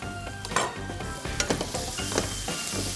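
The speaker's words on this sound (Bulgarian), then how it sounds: "когато се разтопи мазнината, слагам лук, чесън и джинджифил заедно" Onion, garlic and ginger fry in melted fat, a dense close sizzle broken by rapid scraping and stirring strokes, with a few light clinks of a utensil against the pan.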